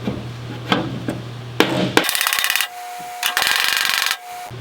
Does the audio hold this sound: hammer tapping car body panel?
yes